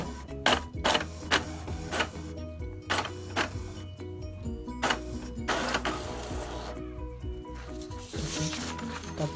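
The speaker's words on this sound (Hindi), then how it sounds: "प्रिंट कर रहा है।" An HP DeskJet Ink Advantage 3545 inkjet printer prints, with repeated clicks and clacks of the carriage and paper feed over a low motor whir, irregular bursts spread across several seconds.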